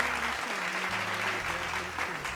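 Audience applause at an award show as a guest walks onto the stage, dense continuous clapping from a crowd with a low tonal hum of music or stage sound underneath.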